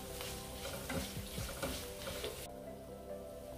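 Leftover idli pieces sizzle and fry in a pan with asafoetida, a close, steady crackle with stirring scrapes that cuts off abruptly near the end.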